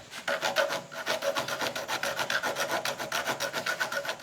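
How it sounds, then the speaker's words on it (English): A file rasps back and forth through a slot in a wooden katana kashira, in a steady rhythmic series of close, scratchy strokes with no talking. "The final step before we can do the Edo wrap is to drill and file out a slot in the kashira"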